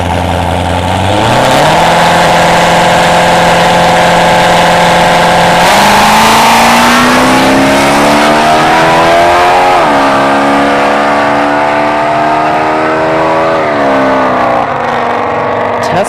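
At a dragstrip test-and-tune event, a Corvette C3 with a 350 V8 idles, then revs and launches down the track, its loud engine climbing through repeated gear shifts, while a Tesla Model 3 runs almost silently alongside.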